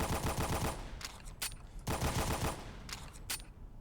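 Rapid gunfire from the Doom video game, the shotgun and double barrel shotgun in use, with dense bursts of shots, sharp louder blasts punctuating a continuous chaotic battle din.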